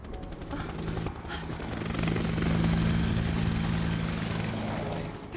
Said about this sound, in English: All the choppers are converging on the tower.